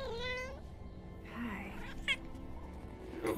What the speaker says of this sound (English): Maybe I'm not allergic to loth cats.